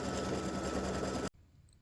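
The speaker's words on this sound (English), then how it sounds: "it's just going to go around and do the satin stitching around the edges" An embroidery sewing machine satin stitching around the edges of a freestanding lace heart earring runs in a fast, steady, buzzing whir, then stops abruptly, leaving a faint quiet hum.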